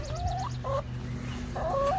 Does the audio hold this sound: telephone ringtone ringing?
no